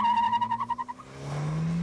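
A turbocharged Isuzu car corners hard on a skid pad, its engine droning steadily with a pulsing tire note that settles into a rising, sustained whine, loud and close, no voices.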